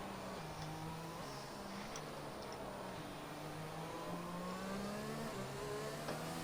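Race car engine held at steady half throttle in a racing video game, a continuous mid-pitched drone with gently rising and falling tone throughout, no voices over it.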